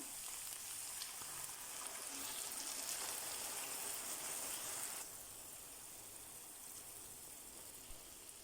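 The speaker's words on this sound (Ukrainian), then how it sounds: "виливаємо вино." Wine pours steadily into a pot with a soft rushing splash, fairly quiet, easing off slightly partway through before continuing.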